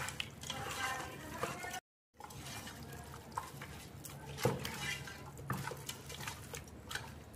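Wet, squelchy stirring of a Bengali mustard-paste fish curry masala with mustard oil in a pan. The soft, steady scraping and squishing runs throughout, broken by a brief gap of silence.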